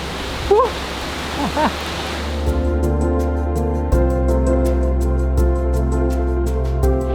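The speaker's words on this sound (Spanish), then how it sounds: "una rutita pequeña a través de una gruta y llegas justo debajo de la cascada" Cola de Caballo waterfall at Monasterio de Piedra, about 53 metres high, roaring as a steady loud broadband rush heard from close beneath it inside a grotto, with brief voices early on and a sustained tone over the spray.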